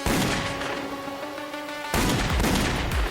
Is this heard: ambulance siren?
no